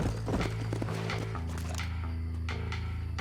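Horse hooves clip-clopping in the Red Dead Redemption video game, a steady run of close hoofbeats layered over a loud, dense game music score.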